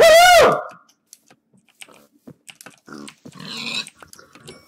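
Pigs grunt in the modded Minecraft game Crazy Craft, opening with a loud squealing grunt followed by scattered faint clicks and small game noises.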